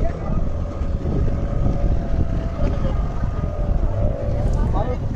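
A motor launch carries passengers across the water in the Andaman Islands, its engine droning low and constant beneath wind buffeting and hull rumble, with voices in the background.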